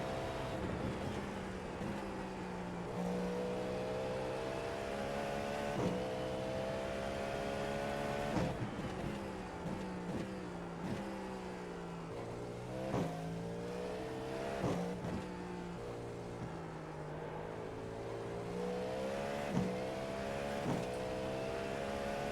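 A Cadillac V-Series GTP prototype laps Sebring in the iRacing sim, its engine note climbing through the gears and dropping on each shift with repeated rhythmic upshifts and downshifts, heard quietly without any talking.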